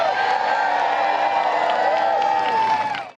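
A large political rally crowd cheers and whoops steadily at full volume, a dense continuous roar with scattered claps that cuts off abruptly at the end.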